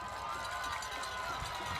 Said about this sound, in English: Listen to the crowd, Mike.